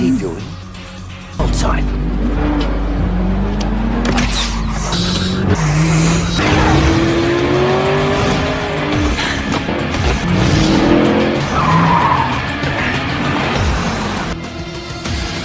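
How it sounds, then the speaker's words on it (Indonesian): Race cars in a death-race action film accelerate hard and skid, with roaring engines and squealing tires that keep up over several seconds. A narrating voice talks over the racing noise. "Setelah dipahami oleh Jensen, dia pun langsung tancap gas menyusul pembalap lainnya."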